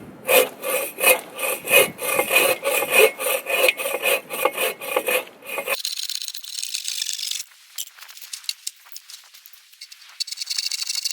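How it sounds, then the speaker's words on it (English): Small hand saw cutting firewood at an island campsite, with brisk rhythmic back-and-forth strokes for about six seconds, then a quieter, softer rasping and rustle. "we're gonna cut up some of this wood just in a little bit more manageable chunks"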